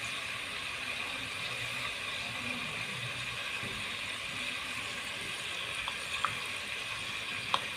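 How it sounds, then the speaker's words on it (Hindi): Garlic ginger paste fries in a pan with a quiet, steady sizzling hiss, broken now and then by a few faint clicks. "हल्का सा भूनते हैं।"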